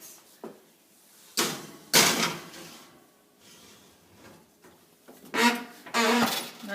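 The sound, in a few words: tray being put into the oven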